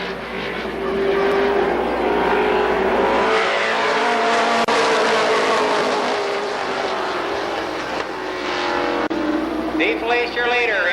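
Late model race cars roaring through a heat race at Columbus Motor Speedway, a loud continuous engine drone that swells and fades as the pack passes, with an announcer talking over it.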